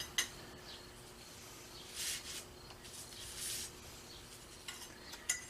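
A hot Sheffield-style steel bowie knife blade is plunged and moved through quench oil, giving faint, soft hissing sizzles in a few short surges over a low steady background.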